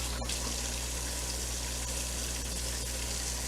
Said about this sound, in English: I am washing my hands